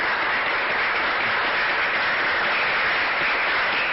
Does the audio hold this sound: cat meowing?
no